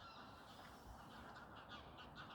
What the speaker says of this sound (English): there were some geese that were flying over there